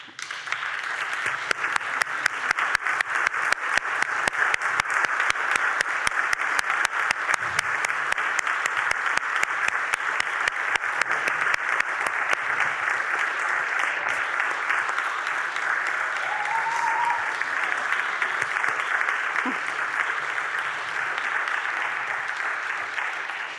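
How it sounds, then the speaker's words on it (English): Sustained applause from a large audience, dense and steady for over twenty seconds, with scattered faint voices underneath. "stand up so that we can give you a round of applause"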